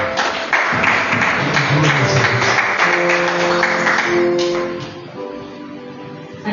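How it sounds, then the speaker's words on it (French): A church congregation applauds together in sustained, dense clapping that carries on for several seconds over organ-like music, then thins out and fades. "Acclamons le Seigneur."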